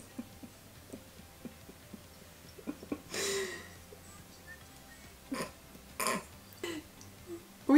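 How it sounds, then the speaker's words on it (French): Short, low blurting bursts from a pony passing gas, scattered among quiet outdoor noises and soft hoof sounds, fairly close. "je rigole parce qu'un poney a lâché des pets"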